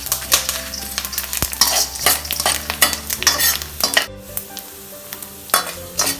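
Whole pepper, fennel, cumin and dried chilies fry and sizzle in a pan, with repeated stirring scrapes and small spice crackles throughout, close and fairly loud, with no voice.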